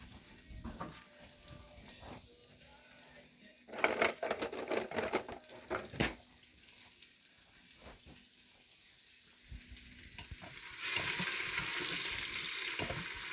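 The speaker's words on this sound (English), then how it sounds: "So I'm just putting the onion in and the ginger." Onion and ginger sizzle in a pan for a keto West African peanut stew, a steady frying hiss broken by loud bursts around the middle as the pieces are stirred, then a brighter, louder crackle near the end; no talk.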